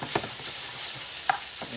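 Steady hiss of potatoes frying in hot oil during a second, higher-temperature fry, with a couple of soft clicks and taps from a utensil.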